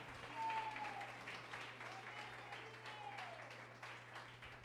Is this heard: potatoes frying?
no